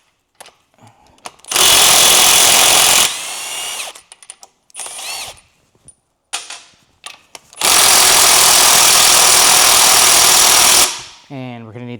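An impact wrench loosens 17 mm bolts on a front differential of an 80 Series Land Cruiser, firing two loud, sustained hammering bursts separated by clinks, handling noises and brief talk.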